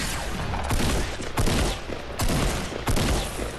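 Rapid bursts of gunfire in Fortnite Battle Royale, several loud volleys arriving in clusters with short gaps between them, dense and close, with no talking over them.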